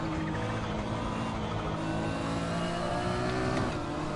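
A Maserati GT1 race car engine in the Assetto Corsa racing game at the Nurburgring GP circuit, droning steadily at high revs throughout, loud and continuous, the pitch climbing slowly as the car runs along a straight.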